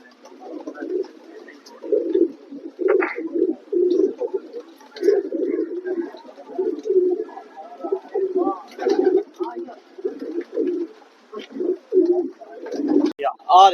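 Khanpuriya pigeons coo steadily in soft, rolling bursts, one call after another, close by with little else around.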